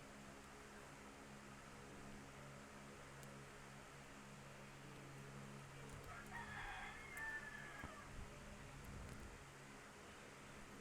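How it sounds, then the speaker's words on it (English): A rooster crows once in the middle distance, a faint drawn-out call rising above a steady hum of room noise, with no other sounds around it. "you might hear the fucking chicken again"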